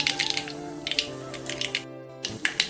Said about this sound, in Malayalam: കടുക് പൊട്ടി വന്നിട്ടുണ്ട്.